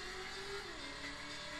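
A car engine in the driving video game Driver revs and pulls steadily, a continuous buzzy drone whose pitch rises and shifts, loud and close with no talk.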